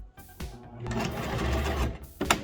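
Sewing machine running a back stitch on fabric for a trail gaiter, a short whirring burst of rapid needle strokes that builds and then stops, followed by a brief clack.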